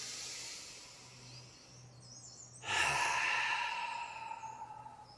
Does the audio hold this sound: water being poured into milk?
no